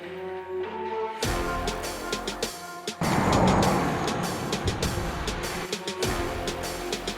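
A Tata Tiago EV electric hatchback drives on sunny roads in Goa, with a steady road and tyre noise whose loudness shifts between passes and cuts, and no speech.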